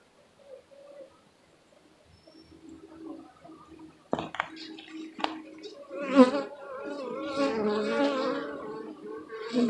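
Honeybees from a weak, freshly opened hive buzz close by; the sound is quiet at first, then swells into a louder, agitated, wavering drone.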